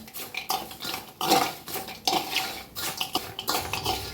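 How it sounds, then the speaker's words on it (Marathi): A spoon scrapes and clinks against a dish while masala is mixed into peanuts for Diwali shev chivda, in quick irregular bursts of metallic stirring, close and moderately loud with no talk. "मसाला ह्याच्या शेंगदाण्यात घालून घेऊया सगळा चमच्या साहाय्याने मिक्स करून घ्या"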